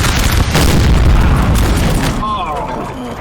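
A cannon battery firing canister shot in Napoleon Total War during the French invasion of Russia, heard as a loud, rumbling boom that fills the opening seconds and then fades, with a voice over it.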